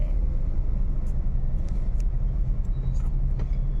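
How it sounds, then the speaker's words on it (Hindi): Steady low rumble of road traffic as cars sit in a jam on a Lucknow street, a continuous engine drone close by with faint higher noises above it and no clear speech. "ट्रैफिक लगने लगा यहाँ पे"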